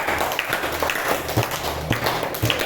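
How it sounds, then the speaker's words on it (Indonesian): A small classroom group claps for a student team, giving a close, uneven patter of individual hand claps at moderate volume with a few sharper slaps standing out. "beri tepuk tangan untuk kelompok 2"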